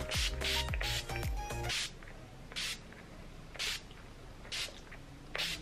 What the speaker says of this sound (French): je termine comme d'habitude avec le spray fixateur, le All Nighter de chez Urban Decay